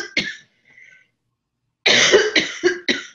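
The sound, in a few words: coughing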